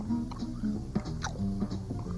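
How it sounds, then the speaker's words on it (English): Moist, squishy chewing of bubble gum close to the mic, with a few soft smacks and clicks in an irregular rhythm over a low hum, and no talking. "I've been chewing this bubble gum because I like the taste of it."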